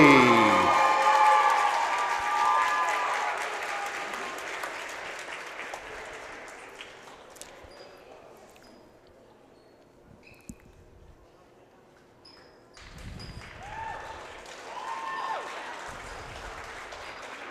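A gym crowd applauds at a girls' varsity basketball senior night, loud clapping and cheering at first that fades to near quiet, then a smaller burst of clapping and voices returns.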